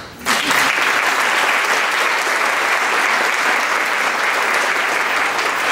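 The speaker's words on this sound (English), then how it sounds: "since we're giving out rounds of applause, why not?" A theater audience at a playhouse curtain speech breaks into applause, rising sharply after a brief pause and holding as a full, even roar of clapping from many hands to the end.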